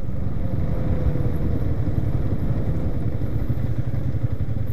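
Yamaha Y16 V2 motorcycle with ABS being ridden, its engine a steady mid-pitched rumble with road clatter, constant and close throughout.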